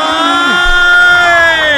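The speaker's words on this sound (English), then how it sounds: "The crowd is chanting Little Mac. The crowd wants Little Mac." Cheering crowd in a Super Smash Bros. match on a custom stage, a loud, sustained mass of voices chanting for a fighter, short and continuous.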